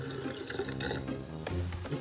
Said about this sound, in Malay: Lepas tu kita masukkan air panas.